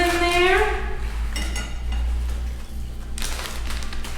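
Dry lentils being poured into a cooking pot in a home kitchen in Querétaro, Mexico, a brief clattering rattle against metal under a low steady hum, with a faint tonal whine at the start.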